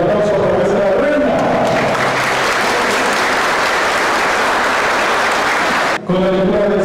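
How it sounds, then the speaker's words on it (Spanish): A crowd applauds the queen at a pageant crowning ceremony, loud dense clapping filling the space for about six seconds, briefly cut off, with voices audible at the start and end. "El aplauso para nuestra reina."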